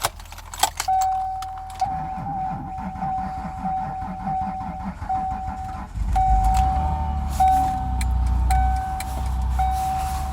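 Keys jangle near a Ford Taurus at a cold start, followed by a steady low engine rumble building from about six seconds on, with a faint whine throughout.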